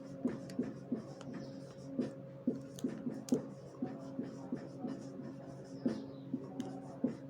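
Pen writing by hand on paper, faint scratchy strokes in a steady rhythm of short repeated marks over a low steady hum, with no one speaking.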